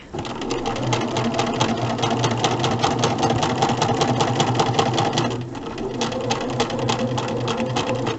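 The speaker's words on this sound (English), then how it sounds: "we're going to go over this seam, holding it in place so it goes under the needle well" A sewing machine stitches across a seam in a Star Light Star Bright quilt block, running as a close, fast, steady mechanical clatter for the whole stretch with a slight change in pace partway through.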